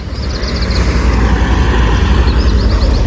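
A car or truck drives along a road through a village, a loud close steady engine rumble and tire roar running throughout, with faint bird chirps above and no talking.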